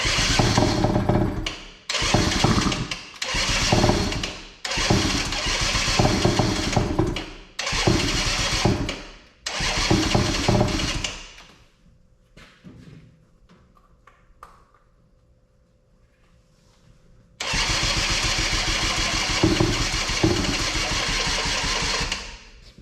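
A 2003 Arctic Cat 90 youth ATV engine running rich, cranking and catching in repeated short bursts, then going quiet before settling into a steady, close, buzzy idle.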